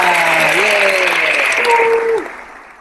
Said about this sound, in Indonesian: mari kita berikan tepuk tangan yang meriah untuk Nadiara